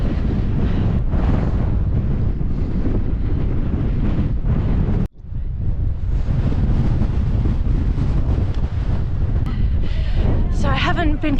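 Strong wind buffets the microphone on a cliff edge at Seven Sisters, a loud continuous roar with one brief dropout midway and a person talking under it.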